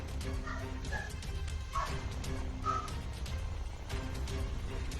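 Several dogs bark and yip at a distance outdoors, short separate calls spread over a constant low rumble of background noise, with occasional faint whistle-like tones.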